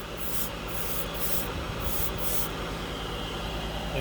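An airbrush with a 0.3 mm needle at 20 psi sprays Dspiae paint as a steady, close airy hiss, with several short pulsed bursts early on before the hiss runs continuously.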